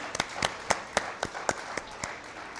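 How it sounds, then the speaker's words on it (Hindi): Audience applause at a stage event for a live launch with Yogi Adityanath, a crowd clapping in bursts with several sharp peaks over about two and a half seconds, moderately close and without talk. "तालियां"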